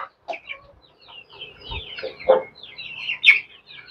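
Chickens clucking in a farmyard beside a resting goat, with scattered short clucks and squawks at moderate distance over quiet surroundings.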